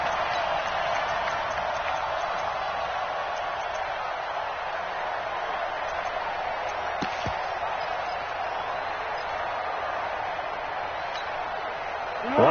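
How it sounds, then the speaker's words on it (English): Stadium crowd in a PS4 football video game keeps up a steady, broad roar of cheering at an even level throughout, building toward a big third down, with a few sharp knocks near the middle and a slight swell at the very end. "the crowd getting into it as we come up on a big third down"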